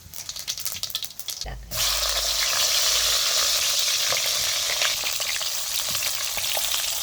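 Mustard and cumin seeds hit hot oil for tempering a stuffed eggplant dish, bursting into a sudden loud sizzle after faint crackling, then a sustained close hiss with scattered pops.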